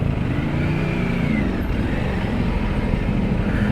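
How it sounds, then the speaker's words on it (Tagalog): Steady road traffic drone of cars and trucks in Katipunan, Manila, heard from a rider heading to a Ducati event, continuous engine rumble with no talk. "Grabe ulit traffic."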